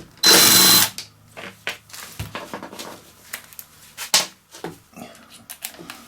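Tool work on a Stihl 4-mix engine taking a bolt out: a short loud burst of a power driver, then scattered clicks, ratchet taps and metallic handling noises, close and fairly quiet.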